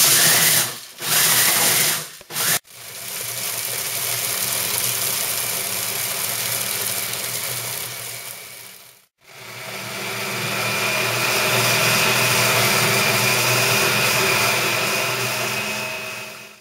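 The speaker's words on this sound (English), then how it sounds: "keep working at it in the food processor until it all mixes in together" A food processor churns superfood chocolate ingredients with a steady, loud motor whir and a few brief stops before it runs on continuously, with no talking.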